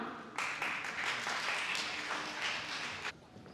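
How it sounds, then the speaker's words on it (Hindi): A crowd applauds at a children's assembly in Lahore, with dense steady clapping that starts abruptly, holds for about three seconds and then cuts off, heard alone without talk. "आपकी तालियों की गूंज में"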